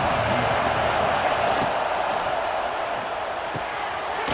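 Steady wash of stadium crowd noise in EA Sports College Football 26, a continuous roar with faint thuds, running beneath game commentary throughout.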